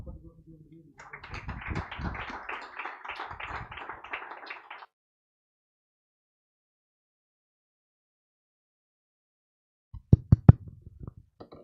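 A church congregation gives a short burst of dense, continuous clapping that cuts off abruptly. A long silence follows, and then a few sharp knocks or taps.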